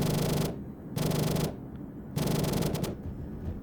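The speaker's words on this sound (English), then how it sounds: "Let's try and see if I can get it with my gun." Bursts of automatic gunfire aimed at a cargo aircraft in the Arma 3 war game, three loud sustained volleys of rapid shots, each about half a second to a second long, separated by brief lulls.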